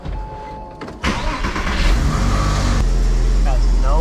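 A Porsche engine cranks and fires up after a brief quiet moment, then settles into a loud, steady idle with a rough edge, close by, while a person talks over it.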